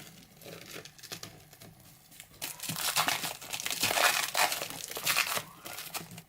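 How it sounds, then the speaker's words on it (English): Packaging around an iPad Pro 10.5 is crinkled and torn open, starting as soft intermittent rustles and building into louder continuous crackling and ripping in the second half. "So let's go ahead and unbox it."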